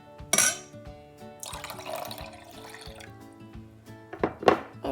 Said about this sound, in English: Then we add the water.